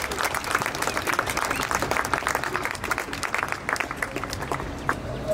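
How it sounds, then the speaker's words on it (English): Audience at an outdoor political demonstration supporting Hong Kong breaking into loud, sustained applause, a dense steady patter of many hands clapping close by with a few faint cheers underneath. "give another round of applause, please"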